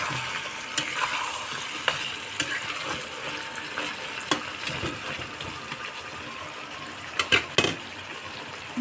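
Duck meat frying in a pan over low heat, a steady crackling sizzle with scattered sharp pops and occasional stirring scrapes, close and continuous.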